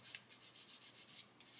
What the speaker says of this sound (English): what I'm doing is just sanding away the edge to get rid of the chamfer